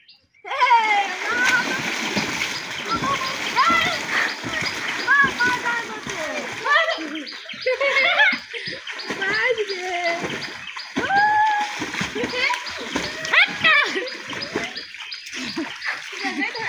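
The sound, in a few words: children splashing while swimming in water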